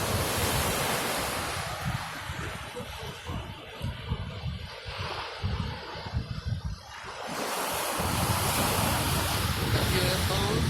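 Big Pacific surf breaking continuously with a loud, broad roar, partly muffled by gusting wind on the microphone through the middle, then swelling again as another wave crashes near the end.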